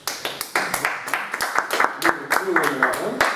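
Applause from a small group in a critical-thinking workshop: scattered, fairly close claps in an uneven rhythm that thin out over a few seconds, with voices talking over them.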